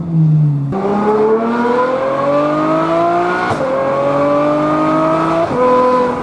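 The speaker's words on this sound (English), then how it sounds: "There's nothing that sounds like a V12." Loud Ferrari V12 engine revving hard through several gears, pitch climbing steadily with sharp drops at each shift, close and dominant throughout.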